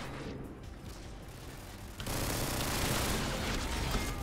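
Sustained automatic gunfire in a modded Call of Duty Modern Warfare 2 gun game match, a steady dense roar that jumps louder halfway through as the spray hits an enemy, with no talking.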